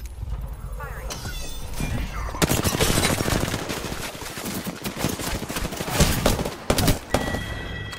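Automatic weapon fire in Apex Legends ranked play, rapid bursts crackling loudly over a dense mix of game effects, with brief voice callouts alongside.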